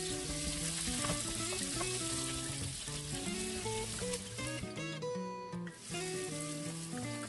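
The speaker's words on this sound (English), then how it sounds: "I then start by sauteing the ginger. Then the onion," Ginger and onion sautéing in a pan, a constant close sizzle running under loud background music, with no voices.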